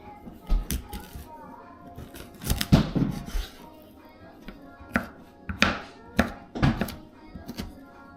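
A serrated knife chops beef fat for rendering tallow on a board, with irregular thunks and sawing strokes up close, and a voice talks and children are heard in the background.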